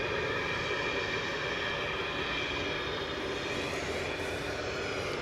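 Heavy jet airliner at DFW Airport, flight 751, a constant loud engine roar with a droning tonal whine, sustained without a break and no voices.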